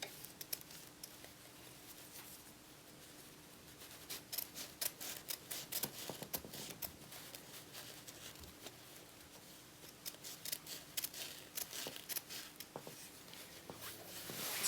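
Scissors trimming the seam allowance of a sewn fabric dress, a series of quiet close snips and crisp clicks with soft rustling of cloth between cuts, no talk.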